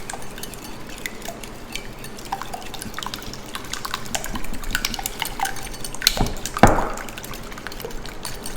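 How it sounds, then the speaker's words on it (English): Eggs with salt and pepper are whisked in a bowl, giving quick light metallic ticks and clinks with faint liquid sloshing, ending in a few louder knocks against the bowl. "just a hit of salt and pepper, and just give that a quick whisk"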